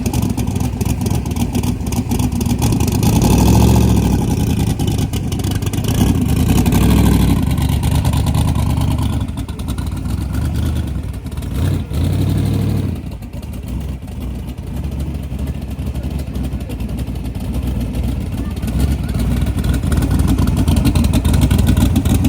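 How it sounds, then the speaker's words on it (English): A drag race car at a drag strip rumbles loudly at close range, its engine surging and revving in heavy bursts, easing back briefly near the middle before building again. "He's got his car rolling up right now to the 530."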